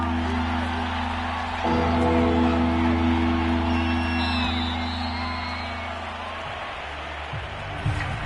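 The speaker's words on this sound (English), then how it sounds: "the crowd getting into it as we come up on a big 3rd down" Stadium crowd in an American football video game (Kansas City vs Las Vegas) roaring and whooping ahead of a big third down, a loud sustained swell of cheers and shouts over steady arena ambience.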